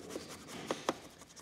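A brush works over car seat upholstery during interior cleaning, giving soft scratchy strokes with two sharper rubs near the end, quiet and close with no talk.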